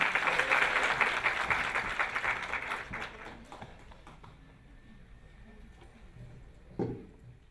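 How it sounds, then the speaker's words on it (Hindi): Audience applause welcoming a guest at a talk on heart disease: a dense burst of clapping that thins out and fades over a few seconds, leaving a quiet room with a faint thump near the end. "एक बार तालियों से स्वागत करें।"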